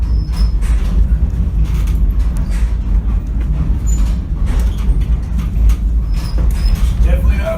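Oregon Coast Scenic Railroad train rolling along the track beside water, with a steady low rumble and rattle running throughout, loud and continuous.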